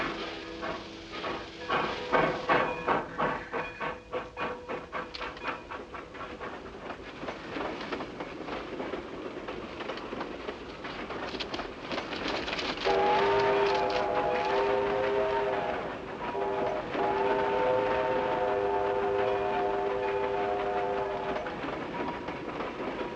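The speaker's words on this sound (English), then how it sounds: "I didn't think he'd be on a train coming this way" A steam train approaches in an old Western setting, its rhythmic chugging and clattering building steadily before a sustained whistle-like tone sounds loud and near for several seconds, with no speech.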